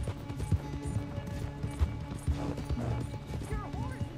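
Horse hooves clop at an uneven gallop in Red Dead Redemption 2, with thuds under spoken dialogue and game sounds.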